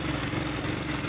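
A Polaris 850 XP engine held at wide open throttle in low range while popping, spitting and cutting out from a misfire, giving a steady, rough, close engine drone with no talk.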